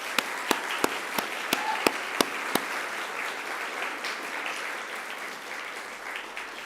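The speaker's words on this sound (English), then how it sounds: "I ask you to give them a round of applause too" Graduates at a university graduation ceremony applaud the academic staff, a broad wash of many hands clapping from a large crowd, with a few sharp claps near the start before fading steadily.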